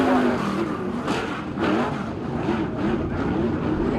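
Car number 18, a winged sprint race car driven by Finn Cleveland, roars around a speedway track in Invercargill, with a continuous loud engine drone rising and falling in pitch as it laps, no speech heard.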